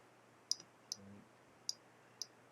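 Sharp mouse clicks from a computer mouse used to write on screen, four or five crisp, isolated clicks spaced irregularly over a quiet background with a faint low hum.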